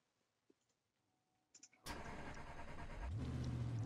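A racing car in the iRacing sim pulls out of the pits: after a near-silent stretch with a few clicks, the engine noise cuts in abruptly and holds steady, a low tone rising as it accelerates.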